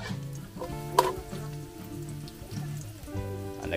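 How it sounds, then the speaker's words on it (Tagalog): Onion, garlic and ginger sauté in a pan for arroz caldo, giving a soft, steady sizzle that stays quiet under a faint tonal background. "Nagisa na ho siya dito ng sibuyas, bawang at luya."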